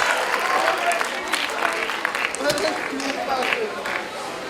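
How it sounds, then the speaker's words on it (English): Enthusiastic applause from an audience at an alumni meet after a performance, dense steady clapping filling the room for several seconds, with a speaking voice heard over it. "Can we have a huge round of applause for UHC?"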